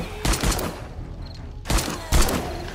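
Several sharp gunshots ring out in bursts in the video game 7 Days to Die, two loud clusters separated by a quieter stretch, with game-like echo and background ambience.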